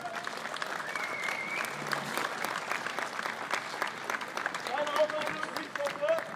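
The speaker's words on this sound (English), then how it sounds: "Give them a round of applause." An audience applauds a technical rescue team at a rescue challenge, a steady patter of clapping mixed with voices and commands in German over a loudspeaker, continuing throughout.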